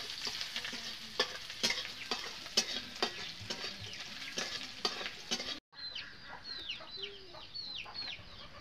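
Chopped onions fry in oil in a pan until reddish, a steady close sizzle broken by repeated scraping stirs of a spatula, with a brief cut partway before the frying resumes.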